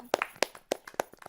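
A handful of sharp, evenly spaced claps, fairly quiet, greet the poet Simple Bhavna at a Hindi poetry gathering, sounding like a few people rather than a full crowd.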